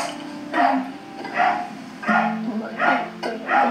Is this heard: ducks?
no